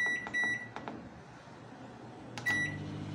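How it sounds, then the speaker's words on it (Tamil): Microwave oven steaming banana flower: a few short electronic beeps at the start and again near the end, with a low, steady appliance hum between them. "இந்த வாழைப்பூவை நம்ம வந்து மைக்ரோவனில் வேக வைக்கிறோம்."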